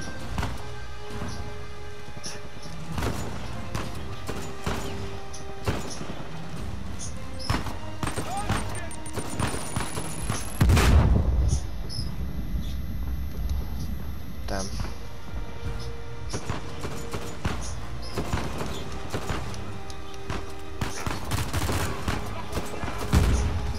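Repeated gunfire bursts in a gunfight in Uncharted 4 on crushing difficulty, dense and continuous with a louder blast near the middle, mixed with game sound effects and someone talking over it.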